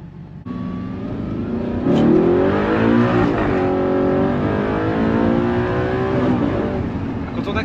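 Car in a racing video game accelerating hard through a steering wheel setup, its engine note rising in pitch in a sustained whining rev that climbs and holds, loud and steady with no talking.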